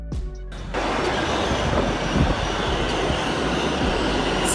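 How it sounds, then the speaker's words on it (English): An urban subway train runs steadily on its tracks, a dense, loud rumbling roar that builds after a brief quieter start and holds with a faint metallic squeal. "Subway train, a type of urban passenger train that operates on underground or elevated tracks, providing rapid transit within cities."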